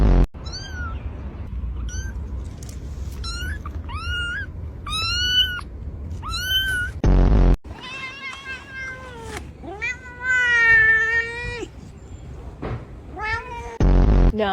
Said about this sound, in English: Told you it was a little kitty.